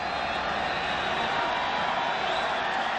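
Baseball stadium crowd at the 1996 World Series Game 5, Yankees at Braves in Atlanta, cheering for another John Smoltz strikeout. A steady, loud wall of roaring and cheering runs unbroken for the whole few seconds.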